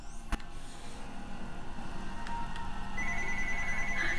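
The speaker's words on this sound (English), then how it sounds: "Oh, phone's ringing." A telephone ringing in the WALL-E video game on Xbox 360, a faint electronic ring tone that emerges over a steady game background hum without any speech.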